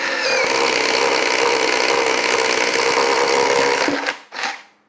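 A Ryobi ONE+ HP 18V brushless cordless compact drill runs with a 3 amp hour HP battery, giving a loud, steady motor whine with a grinding, buzzing texture for about four seconds before it quickly spins down and stops.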